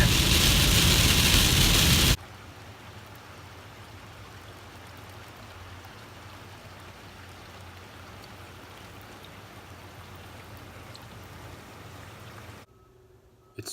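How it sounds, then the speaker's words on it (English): Heavy rain falls in a steady, dense hiss that carries on unbroken for more than ten seconds, following a louder burst of noise at the start and ending in a sudden drop. "Started raining pretty hard!"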